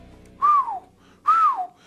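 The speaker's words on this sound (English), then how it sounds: "Double whistle." Two loud, close whistle blasts sound in quick succession, each a short rising-then-falling tone, separated by a brief gap, with no other sound around them.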